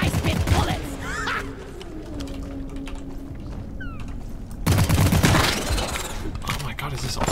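Player's weapon firing in the video game Deep Rock Galactic, a dense, continuous spray of shots. It runs under the whole stretch and grows louder and busier near the end, with a voice talking over it.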